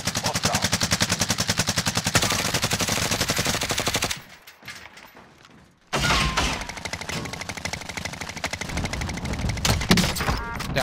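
Rapid, sustained automatic gunfire from a World War II-style shooter game featuring a Kar98 sniper rifle, loud and continuous, then a brief lull of quieter rumble before another burst of dense firing and battle noise resumes.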